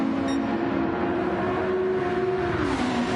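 Race cars driving down the home straight in a Formula X racing video game, including a Lotus in another car's slipstream, with a steady loud engine drone and a shifting pitch as they speed along.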